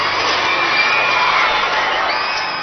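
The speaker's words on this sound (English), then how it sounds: "Applause rings through St. Peter's Square as Pope Francis prepares to deliver his first Christmas message" A large crowd in St. Peter's Square as Pope Francis prepares his first Christmas message, with loud, continuous applause and cheering that fills the space and stays steady throughout.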